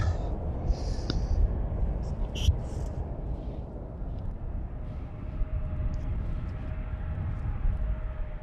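Jet airliner departing Amsterdam Schiphol runway 36L, a steady broadband engine roar holding loud and even throughout, with a faint tonal whine emerging midway and brief voices near the start.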